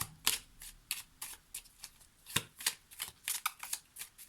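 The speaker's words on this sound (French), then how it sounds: "Comment je fais, moi, pour tirer mes cartes" Tarot cards are shuffled and drawn close by, producing a rapid series of sharp papery riffles and slaps in uneven bursts, fairly quiet overall with no speech.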